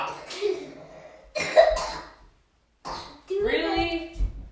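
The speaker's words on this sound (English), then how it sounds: "Aren't we supposed to be coughing and sneezing into tissues right now?" Close coughing in a home setting during an online baking class, several harsh bursts with a throaty, clearing quality and short pauses between them, alone without talk.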